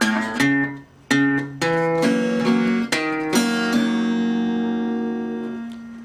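Plucked acoustic guitar notes in country blues ring out alone, a few separate picks then a short bluesy run, with the last note left sustaining.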